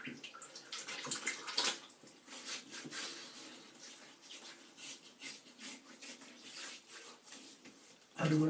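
Water splashes and rubs against a face before a shave, a series of wet, uneven swishes and scrubbing sounds close by, ending with a brief louder noise.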